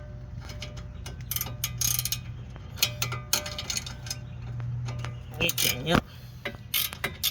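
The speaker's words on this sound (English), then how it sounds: "We're going to tighten that down pretty darn tight until we can see the hole for the cotter pin." Ratcheting clicks from a wrench tightening the nut on an outer tie rod end of a car during suspension work, with a steady low hum underneath and a brief exchange of words partway through.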